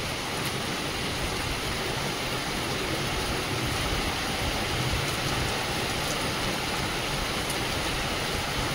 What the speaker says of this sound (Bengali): কিন্তু সে বৃষ্টি হচ্ছে, এত জোর মুষলধার বৃষ্টি হচ্ছে।